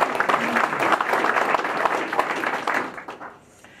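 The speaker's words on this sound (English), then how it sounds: "You might give him a round of applause" An audience at a gathering in Berlin applauds steadily, a dense wash of clapping that holds for about three seconds and then tapers off quickly into quiet.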